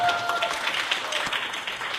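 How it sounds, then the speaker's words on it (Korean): A church congregation claps together in a dense, continuous round of applause that fills the room at moderate volume from start to finish. "박수 한번 주세요"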